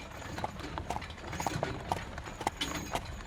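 Horse hooves clip-clop at a steady trotting rhythm as a horse pulls a carriage in a fairy-tale setting, each beat crisp and fairly close over a light background hum, with no talk.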